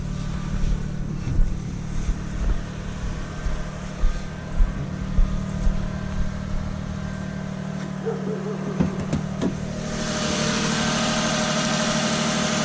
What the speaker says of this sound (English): Man, that's a quiet motor.